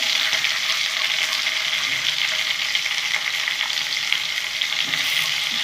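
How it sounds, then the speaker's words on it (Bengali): Mixed vegetables, including flat beans and eggplant, fry in a hot pan with a steady, loud, close sizzle and occasional stirring scrapes that continue throughout, with no talking. "সব ভাজা ভাজা করে নেবো"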